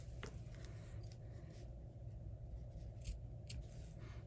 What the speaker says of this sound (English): get my scissors and kind of trim that up